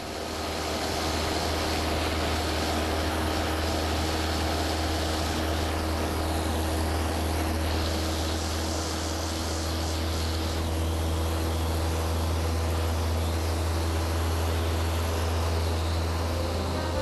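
A light propeller airplane takes off from an altiport in the French Alps, its engine a loud, steady droning roar that stays close and constant throughout, with no talk.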